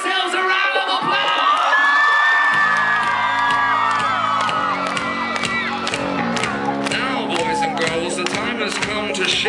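Concert crowd at Universal Studios for a show cheering, whooping and shouting loudly and steadily throughout, with high excited voices rising over a dense roar and music underneath.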